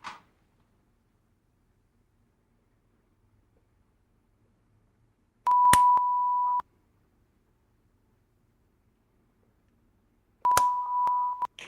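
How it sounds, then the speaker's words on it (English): Two clean electronic tones about a second long sound five seconds apart, each with a sharp clap at its start. A faint click comes at the very beginning, and near silence fills the gaps, marking sync points for a podcast recording. "Let's clap and beep respectively at 0, 5, and 10."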